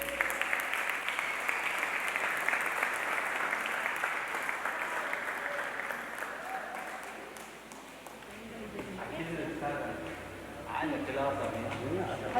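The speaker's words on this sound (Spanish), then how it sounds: "Dele fuerte un aplauso al que vive y al que reina." A church congregation applauds loudly and steadily for about eight seconds, the clapping thinning as music and voices rise toward the end.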